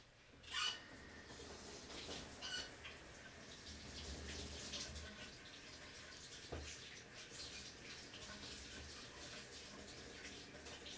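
Tap water runs steadily into a sink while a piece of chalk-etched glass is washed under it, a continuous splashing hiss with a few louder clunks and rubbing sounds near the start and around the middle.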